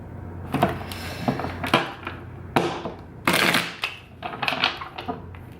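Tarot cards shuffled by hand at close range: a run of quick riffling and slapping bursts with brief gaps between them, crisp and near, with no talk over them.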